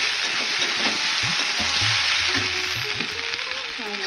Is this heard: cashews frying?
yes